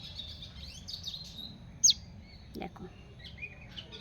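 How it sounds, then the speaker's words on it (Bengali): Young tailorbird chick calling for its mother, thin high chirps and tweets repeated in short bursts, close but faint, with a single sharp louder call midway and a brief spoken word over it. "দেখো শুধু এদিক ওদিক মাথাটা ঘোরাচ্ছে আর ডাকছে মাকে"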